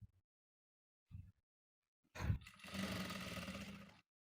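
A sewing machine stitches blouse cross pieces together: a couple of short bursts, then a louder sustained whirring run of about two seconds, close by, with no talk.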